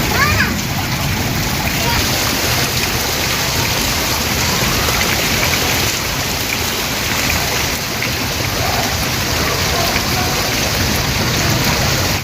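Heavy rain pours continuously, a dense close hiss and splatter on surfaces that holds steady throughout, with a voice faintly under it.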